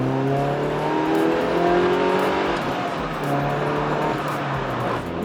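A Lotus Elise sports car engine revs hard past 6,000 RPM and accelerates, its loud roar climbing steadily in pitch, close and continuous.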